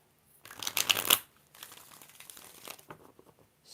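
Tarot cards shuffled in several quick riffled bursts, a crisp papery rush peaking loudly near the start, then softer ruffling shuffles that trail off, close up with no talking.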